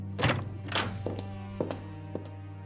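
Heavy footsteps land outside a door in a story-driven video game, a handful of dull, uneven thunks spaced across the moment, muffled as if through wood, over a steady low hum.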